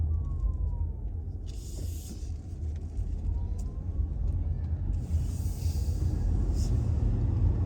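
A car drives slowly through a residential neighborhood of townhomes and houses, with a steady low engine and road rumble and faint passing traffic in the background.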